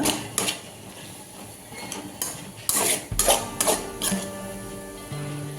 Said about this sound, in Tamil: ஒரு கரண்டி எடுத்து இப்படி வெங்காயத்தோடு நல்லா சேர்த்து விடுங்க நல்லா கலந்து வரட்டுங்க